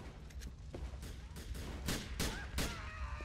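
Dense video game gunfire in Grand Theft Auto 4 The Lost and Damned, rapid overlapping shots and bursts in a loud, continuous firefight.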